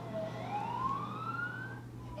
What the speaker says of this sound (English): A basic life support CN ambulance was immediately dispatched.